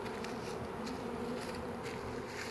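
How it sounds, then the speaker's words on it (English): A captured honeybee swarm hums continuously, many bees buzzing together in a dense, low drone, fairly quiet and unbroken, with no voices. "There's tons of bees."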